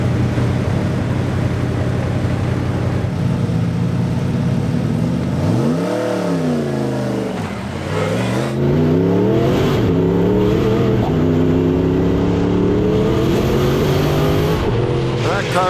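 A 1300HP Camaro race car on a Pikes Peak hill climb, engine revving loudly and climbing through the gears, with one dip and then a sustained rising drone close by.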